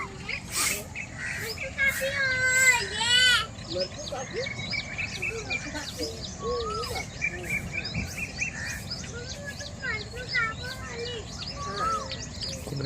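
Peacocks and other birds call outdoors in a village in the evening, with shrill repeated cries and chirps over a steady insect buzz, while people talk nearby.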